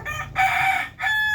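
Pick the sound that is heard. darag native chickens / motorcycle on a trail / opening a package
darag native chickens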